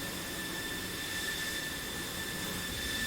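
A steady, loud jet roar from an F-16C Viper in the DCS flight simulator, continuous and even throughout with a faint high whine layered on top.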